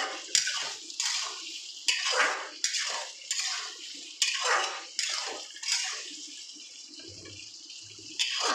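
Water from a bowl poured into a cooking pan for a Bengali cauliflower korma with cashew-poppy paste, heard as a series of repeated splashing pours with short gaps, fairly close and clear, no talking.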